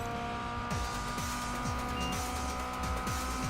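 Race cars in the video game Project Gotham Racing 4 roar steadily and loudly, with repeated engine gear-shift sweeps and tire noise running continuously and no talk over them.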